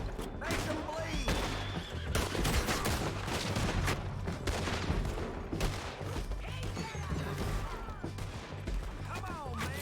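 Gunfire in Red Dead Redemption 2 crackles amid horse whinnies and hooves, loud and busy with overlapping shots under shouting game voices.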